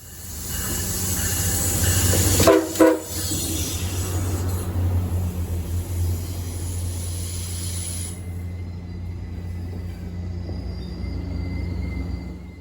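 MARC commuter train passing near Point of Rocks, Maryland: a loud steady rumble and hiss of rail cars rolling by, with a brief burst of horn-like tones near the start, then fading after a few seconds.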